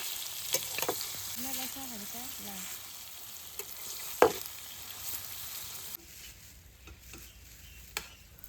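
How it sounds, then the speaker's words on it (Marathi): Paneer frying in a pan at a forest campsite, a continuous bright sizzle with occasional stirring clatter and a sharp knock midway. The sizzle drops to a quieter hiss near the end, with faint bird-like chirps early on. "पनीर इकडे मस्त की आपण फ्राय करून घेऊ."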